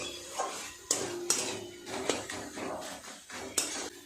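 A metal spatula presses and mashes food in a cooking pan, giving sharp irregular clanks and scrapes against the metal with softer squishing in between.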